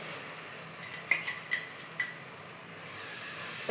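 A spoon stirs ginger garlic paste and onions in a pan over a soft, steady sizzle, with a few light metallic scrapes and clinks close by.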